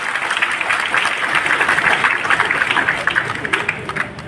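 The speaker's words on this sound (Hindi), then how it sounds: "एक बार जोरदार तालियों से उनका स्वागत करें" Loud, sustained applause from an assembled crowd welcoming a speaker at a Gurjar community gathering, dense clapping throughout with a voice partly audible under it.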